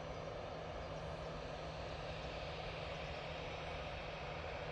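An EasyJet airliner taxis at Manchester Airport, a steady broadband engine roar with a low hum running unbroken throughout, moderately loud and alone.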